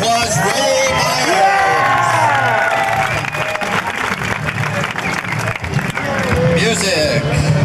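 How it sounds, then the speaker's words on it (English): An outdoor crowd at a 1990 San Francisco skateboard contest claps, cheers and whoops steadily for several seconds while an announcer talks over the din. "Let's give him a big round of applause."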